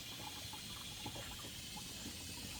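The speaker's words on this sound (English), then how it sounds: "hopefully water comes down into the cups" Water flows through a newly installed Canvino chicken watering system into the drinking cups, a steady soft trickle and gurgle with faint intermittent splashes, heard alone without talk.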